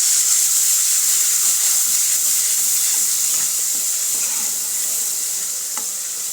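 Tomato puree hitting hot oil in a pan for a Kathiyawadi bottle gourd curry, a loud continuous sizzle and hiss that slowly eases off, with faint stirring.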